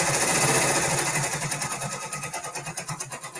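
A multi-needle embroidery machine stitches for a few seconds, giving a loud, fast, even mechanical chatter with a rapid rhythmic pulse, alone with no talk.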